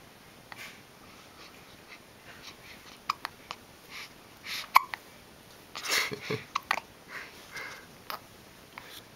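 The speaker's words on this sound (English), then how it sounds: "Hiccups?" A baby hiccups in a nursery: soft, sharp little hiccups and sniffs spaced irregularly over quiet background hiss, close and faint, with no talking.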